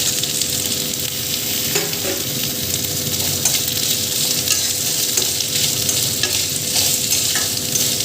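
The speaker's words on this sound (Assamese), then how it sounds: "অলপ সময় ভজাৰ পিছত মই ইয়াতে আলুখিনি দিছোঁ" Potatoes with drumsticks fry in oil in a pan, a continuous close sizzle broken by repeated metallic clinks and scrapes of stirring, with no voices.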